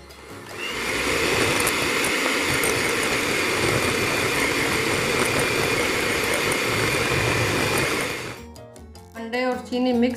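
Electric mixer beats eggs and sugar for chocolate cake batter, a loud steady motor whir for about eight seconds, then it stops and a voice speaks.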